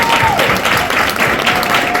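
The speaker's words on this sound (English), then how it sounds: "Please will you give my panel a round of applause." Sustained applause from a crowd fills the clip, steady and fairly loud throughout.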